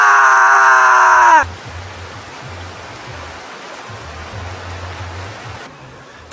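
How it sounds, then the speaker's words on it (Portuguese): Steady rain hisses evenly after a short loud opening sound, with a low intermittent hum underneath, continuing on its own to the end. "Chuva."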